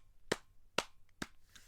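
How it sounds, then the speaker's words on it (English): Three slow, evenly spaced hand claps, each a sharp isolated smack about half a second apart, fairly faint against a quiet background. "Slow clap."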